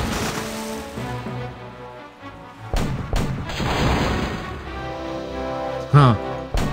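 Ship cannons fire during a sea battle in the video game Monkey Island 3, with a few heavy booms over a rumbling sea-like background and game voices.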